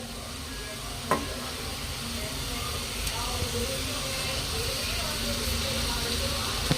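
Eggs frying in ghee in a pan give a steady, close sizzle with light stirring and a couple of small clinks, continuous and moderately loud with no talking.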